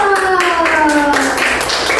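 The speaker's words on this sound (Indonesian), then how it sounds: "Tepuk tangan dulu." Schoolchildren in a classroom clapping for a group during a science lesson, a dense burst of hand claps with a teacher's voice speaking over them.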